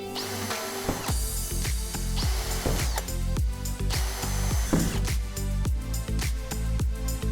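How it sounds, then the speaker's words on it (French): A power drill pre-drills holes into an 18 mm MDF board while a folding workbench is being built, with repeated bursts of whining motor and bit-grinding and sharp clatters in between. "on doit d'abord préforer"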